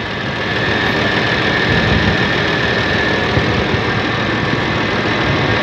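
A Massey-Ferguson 1130 tractor's diesel engine, said to have under 100 hours since overhaul, runs steadily at idle, a loud, continuous low rumble with a faint knocking texture and no talk.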